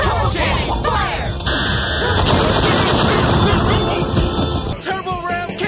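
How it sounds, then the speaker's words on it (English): Power Rangers Turbo Cannon firing in a TV battle scene, a loud continuous barrage of blasts and explosive rumble with a steady tone, followed by brief yelling voices near the end. "Turbo Cannon, fire!"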